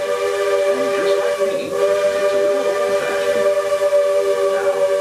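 Ride aboard the old steam locomotive train at Magic Kingdom, with a steady mechanical hum and rumble of the moving train throughout, faint clanks and rattles on top, no clear whistle blast.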